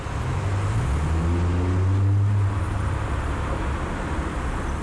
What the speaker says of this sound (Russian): Вот он, шум городской суеты.